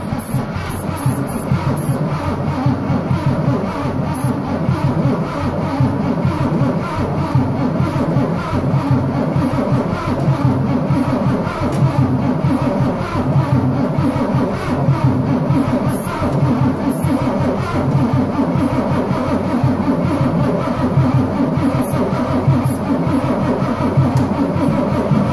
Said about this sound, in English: Tap the starter. Okay, crank on it till I say whoa.